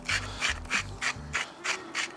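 A hand grinder cranks salt and pepper into tomato soup in a steady rhythm of about eight gritty rasping turns, close up and fairly quiet, with no talking.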